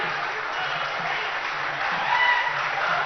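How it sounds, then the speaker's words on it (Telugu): Audience applause at a foundation stone ceremony for a planned future city in Telangana, a dense continuous clapping from a large crowd, steady and loud, swelling slightly toward the end. "మీరు గట్టిగా చప్పట్లు కొడితే ఈ పండుగ మరింత ఆనందమయంగా ఉంటుంది"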